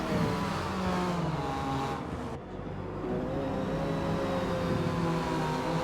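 Sim race cars including a Porsche at the 12 Hours of Sebring drone and whir continuously, engines holding a steady pitch with a brief dip as one car passes alongside another.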